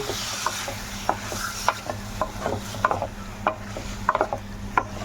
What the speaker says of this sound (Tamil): அப்படியே நம்ம கிண்டிக்கலாம்